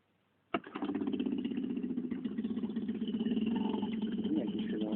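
A small boat motor on a trip around the Kornati islands starts abruptly after a quiet moment, then settles into a steady, close, buzzing run with a slightly rising rhythm, with voices faintly in the background.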